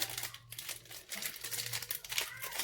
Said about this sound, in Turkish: Bütün paketleri bu şekil açalım.